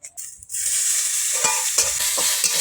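Grated garlic, green chilli and onion hit hot oil with bay leaf and cumin, bursting into a loud, close sizzle that is stirred with repeated scraping strokes of a spatula.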